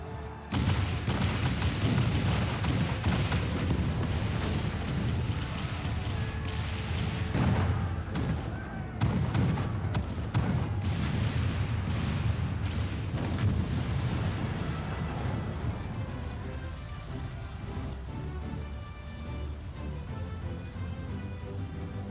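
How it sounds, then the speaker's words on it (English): Continuous booming cannon fire and explosions in Final Fantasy XIV: Stormblood, dense and loud, with bursts overlapping throughout a long stretch of battle noise. "All cannons resume firing!"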